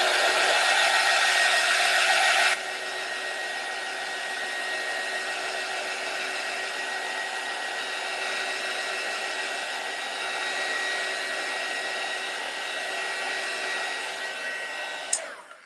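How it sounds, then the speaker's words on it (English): A heat gun blows on a mixed media tile, giving a steady close whooshing drone with a faint motor whine. It is louder at first, then holds at a constant level, with no talking. "We're going to hit it with the heat gun again."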